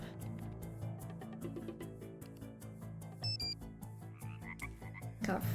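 A frog croaking notification sound, a short burst of croaks from a phone alert among other preset tones, played over a steady musical background with no talking.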